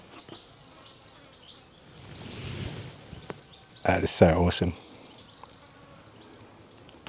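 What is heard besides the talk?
birds singing in forest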